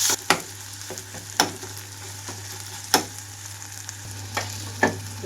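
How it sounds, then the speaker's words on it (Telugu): Onions, ginger and garlic fry in a pan as chopped tomatoes go in, giving a steady close sizzle broken by several sharp stirring scrapes and clinks of a spoon against the pan, with no talking. "ఉల్లిపాయలు కూడా వేగిన తర్వాత ఇందులోకి కట్ చేసి పెట్టుకున్న టమాటా వేస్తున్నాను"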